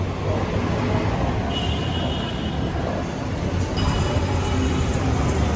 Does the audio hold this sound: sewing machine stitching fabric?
no